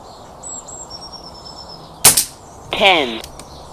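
Two sharp shotgun reports from a cut-down Retay T20 fired at a target outdoors, one crisp crack followed by a second, louder ringing blast, close to the listener over quiet background with faint birdsong.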